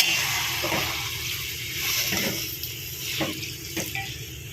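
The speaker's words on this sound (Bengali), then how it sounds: "এবারে সামান্য একটু জল দিয়ে দিচ্ছি" Small amount of water poured into a hot pan with fish oil and boiled spinach, giving a loud, continuous sizzling hiss with a few brief splashy bursts as it hits the pan.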